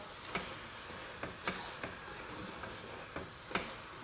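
Chicken and sweetcorn keema mince is stirred in a pan under a soft, steady sizzle, with a spoon tapping and scraping the pan every so often.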